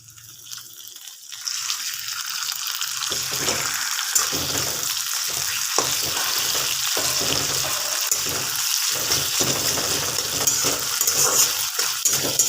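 Ginger sizzles in oil as boiled tomato goes in, a broad steady frying hiss starting quietly and swelling after a second or two, with intermittent stirring scrapes throughout; no talking.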